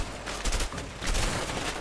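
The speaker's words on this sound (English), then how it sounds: "Ow, I'm being shot." Gunfire strikes the player character in the video game A Way Out, a couple of fairly loud bursts of shots with a steady background bed between them.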